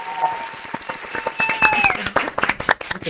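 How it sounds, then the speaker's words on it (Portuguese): A small group claps at a live podcast recording in Rio de Janeiro, loose irregular claps close by, with a whistle-like tone gliding through the middle. "Uma salva de palmas para Dani!"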